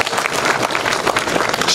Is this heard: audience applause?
yes